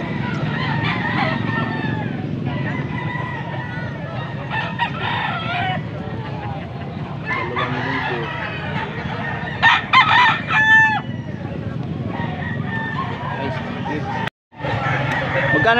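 Kanawayon hatch roosters, an F1 line, crow repeatedly at a poultry farm amid steady bird clucking and a murmur of people talking in the background.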